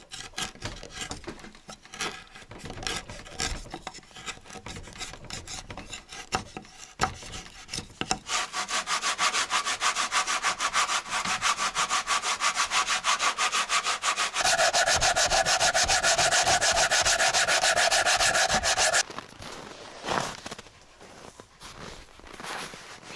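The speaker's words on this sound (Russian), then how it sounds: "Осталось его немножечко обработать наждачкой" Sandpaper rubs steadily inside a drilled hole in a wooden stump meant as a sink, a close, dry rasping that runs in long even strokes, growing louder and denser midway before tapering off, with no talk.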